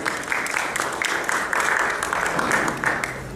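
Sustained audience applause at an economics lecture on taxes, dense steady clapping from a crowd filling the whole stretch at an even, fairly loud level.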